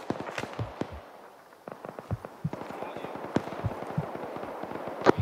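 A volley of sharp gunshots in the military shooter ARMA 3: irregular cracks and bursts, some close and loud, others farther off, with voices talking over the firing.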